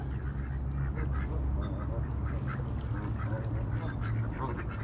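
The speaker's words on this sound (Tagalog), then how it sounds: "Yan ang mga duck dito sa Woodward Park, California." A group of ducks quacks and honks continuously at a park in California, a busy, overlapping chorus of fowl calls heard close by.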